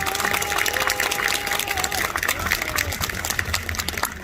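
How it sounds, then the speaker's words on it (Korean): Audience applause fills a concert hall after a tenor's rendition of Nessun Dorma, a dense steady patter of many hands with a faint tonal hum beneath, continuous for the whole stretch. "다시 한번 큰 박수를 부탁드리겠습니다"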